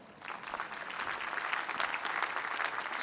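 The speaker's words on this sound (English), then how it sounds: "So it certainly does deserve a round of applause." Applause from a large outdoor commencement crowd, a soft, distant wash of many hands clapping that swells in after a quiet start and then holds evenly.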